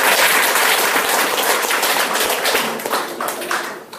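An audience claps warmly after instructor Yang Seung-yeol's motivational lecture. The dense, steady applause fills the whole stretch and tapers slightly toward the end.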